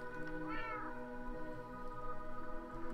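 Cats meow in the Minecraft video game: one clear, rising and falling meow near the start, heard over a steady bed of game music and ambient sound with no talking.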